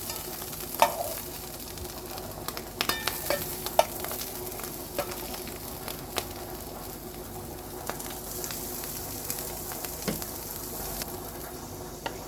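Steady low sizzling and crackle of steak frying in a pan, with occasional clinks and stirring scrapes, fairly close and even throughout.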